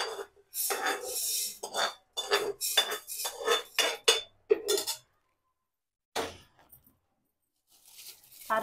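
Urad dal roasts in a metal pan while a spatula scrapes and stirs it in a series of rattling, clinking bursts. A longer pause follows, then a few more scrapes.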